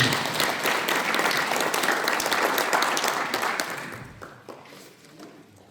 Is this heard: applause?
yes